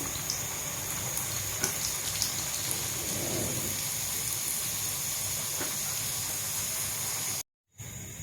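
Spinach puris frying in hot oil, giving a steady, even sizzling hiss that runs unbroken and close, with a brief cut to silence near the end.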